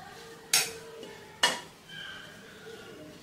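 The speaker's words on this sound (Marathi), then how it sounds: "चमच्याने त्याला असं पसरवून घ्यायचं आहे" A spoon strikes and scrapes a large metal plate twice while spreading warm fresh coconut laddu mixture to cool, each stroke a sharp close clank, with a quiet hiss between them.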